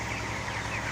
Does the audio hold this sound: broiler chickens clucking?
yes